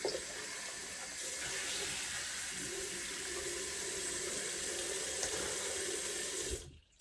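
Tap water runs steadily into a sink while shaving alum is rinsed off, a close, continuous splashing flow that stops abruptly near the end.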